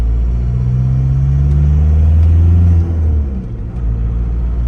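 A car engine drones loudly while driving in second gear, holding a steady, even pitch before the tone drops and softens toward the end.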